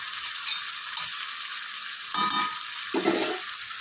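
Fried potatoes going into a pan of cooking chicken, a hissy sizzle with brief louder bursts of stirring and scraping, close and without talk.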